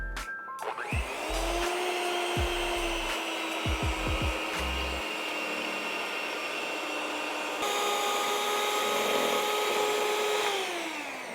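An electric hand mixer whirs steadily through keto donut batter, starting after a few low knocks and running continuously at close range with a slight shift in pitch partway through, no talking.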